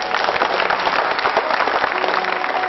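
A studio audience claps steadily at a Chinese TV show, a dense, continuous crackle of many hands filling the whole stretch with no pauses.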